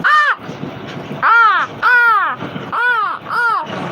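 A person imitating crow caws, five loud, harsh, drawn-out caws in an uneven rhythm, very close to the microphone, with a short gap between each call.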